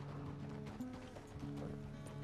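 Horse hooves clopping in Red Dead Redemption 2 on a ranch, a steady muffled clip-clop under continuous low background noise and ambient game sound.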